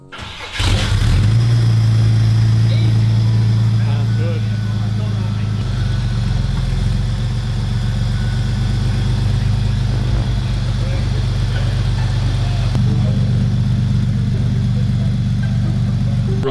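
A home-built project car's engine cranks and catches, then settles into a steady, close, deep idle rumble that runs without a break, while people talk briefly nearby.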